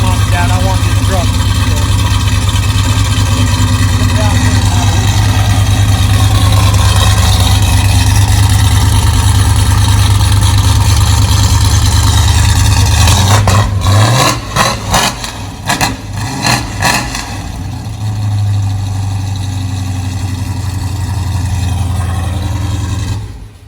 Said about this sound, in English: It sounds like they're 427 LS motors they do dyno pulls on over there.